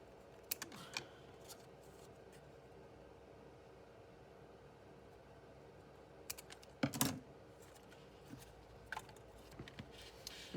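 Paper being trimmed for a handmade ephemera folder, a few soft snips and one louder cutting crunch in the middle, close and quiet against a steady low background hum.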